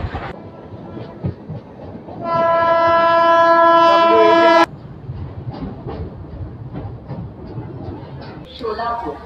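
A train runs at high speed on the Pune to Kurduwadi line and sounds a long, loud, steady horn blast for about two seconds, which cuts off sharply over continuous close rumbling and clatter.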